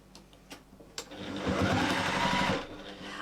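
Sewing machine stitching fabric in one short, steady whirring run of about a second, close and moderately loud, preceded by a few light taps and clicks and followed by quiet handling.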